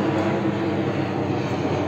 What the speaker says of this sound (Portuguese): O avião passa.